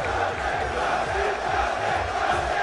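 A tournament crowd at EVO 2013 roars during an Ultimate Marvel vs Capcom 3 match, a dense, loud, sustained wash of cheering voices with no break.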